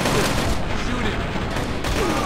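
Rapid gunfire bursts from the mobile tactical shooter Rainbow Six Shadow Vanguard fill the moment, dense and loud, a continuous fusillade-like rattle with no clear gaps.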